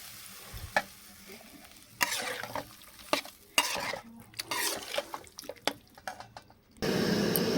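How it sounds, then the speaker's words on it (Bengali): Water poured into a jackfruit curry in a hot pan, uneven stirring and clattering scrapes followed by a loud rushing sizzle as the liquid hits, no voices. "এখানে আমি 2 কাপ মতো জল দিচ্ছি"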